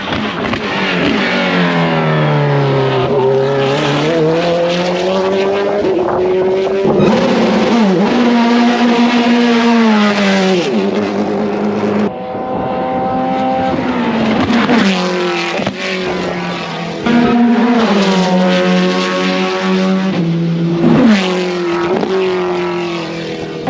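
A powerful car engine revs repeatedly, its pitch climbing and falling in long loud sweeps, close and continuous with brief dips between pulls.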